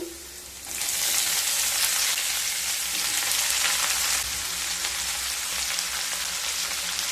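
Chopped onions drop into a pan of frying ginger and garlic, and a loud, steady sizzle rises at once and continues unbroken, close and bright with faint stirring beneath.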